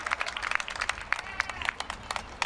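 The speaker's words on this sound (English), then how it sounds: "And so, yes, a nice round of applause." An audience applauds with a patter of scattered, crisp hand claps at moderate distance, steady throughout without a clear peak.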